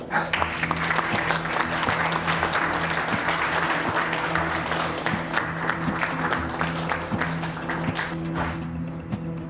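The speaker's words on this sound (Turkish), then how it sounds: "Alkış." Applause for a young girl's short violin piece in a TV drama scene, a brisk round of clapping from a small group indoors, with a steady low musical tone underneath.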